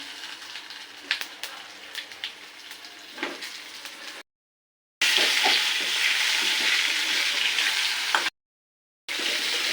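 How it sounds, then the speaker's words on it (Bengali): Potatoes frying in a pan of hot oil after fish, for a Bengali home-style dish, giving a steady close hiss and crackle with two brief silent breaks. "আলুগুলো ছেড়ে দিলাম, আলুগুলো ভেজে নিয়ে যাবে।"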